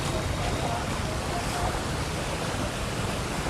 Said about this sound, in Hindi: इस गटर से पानी बाहर निकलता हुआ नजर आ रहा है